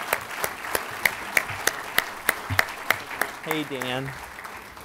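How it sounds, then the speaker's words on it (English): Graduation ceremony audience applauding a group of graduates, with distinct individual claps landing at a steady rhythm and a brief spoken greeting near the end. "Let's give that group of graduates a big round of applause."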